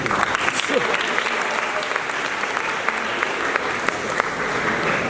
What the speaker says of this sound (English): You can give me clap.